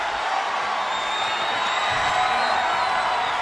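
Wrestling-game arena crowd in WWE 2K24 roars with a steady wash of cheering and whoops, moderately loud and continuous, with no commentary over it.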